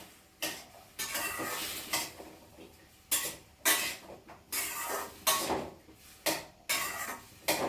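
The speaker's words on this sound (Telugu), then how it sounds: "వంకాయలు కూడా వేసేసిన తర్వాత ఒక తిప్పి ఇలా తిప్పాలి" A spoon scrapes and clatters against a pan while brinjal pieces are stirred over heat. The strokes come in repeated bursts about every half second to second, close and moderately loud, with a faint sizzle beneath.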